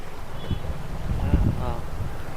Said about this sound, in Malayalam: നല്ല കാറ്റടിക്കുന്നുണ്ട് ഇവിടെ